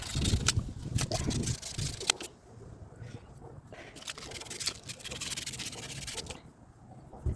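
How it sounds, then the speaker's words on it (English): Steady back-and-forth rasping of sandpaper rubbed over wood by hand, close up, in repeated strokes with brief pauses. "I'm out here sanding"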